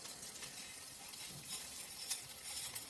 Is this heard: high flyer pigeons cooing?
no